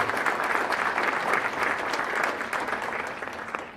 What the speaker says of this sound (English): So let's, real quick, a round of applause for Chaplain Udachiku and everybody else who